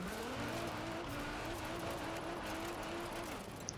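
Car drifting on a snowy track in Forza Horizon 4, a steady engine drone with rising and falling revs and faint tire hiss running continuously at moderate volume.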